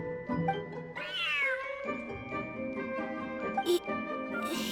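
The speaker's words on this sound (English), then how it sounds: "Smart cat." Cat meowing in the video game Genshin Impact, several drawn-out tonal meows in quick succession, moderately loud over game music and ambience.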